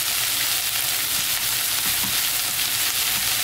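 Chili powder fries in scallion oil in a thick coated pot over low heat, making a loud, steady, continuous sizzle with no voices.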